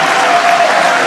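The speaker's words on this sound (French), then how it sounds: "est-ce qu'on peut bien l'applaudir?" Audience applause at a political party congress, a dense, steady wash of many hands clapping close and loud for about a second, with faint crowd voices mixed in.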